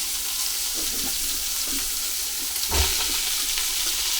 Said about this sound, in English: They're going to need about 5 minutes just sautéing there, just to start to cook and soften just a little bit.